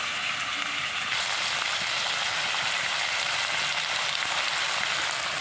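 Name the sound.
spice pastes sizzling in hot oil with pork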